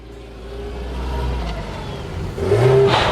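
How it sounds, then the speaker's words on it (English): A cheap VW Beetle drag car at a drag strip revs hard during a burnout onto a trailer, its engine note climbing from a low rumble to a loud, strained roar near the end. "Oh, burnout onto the trailer"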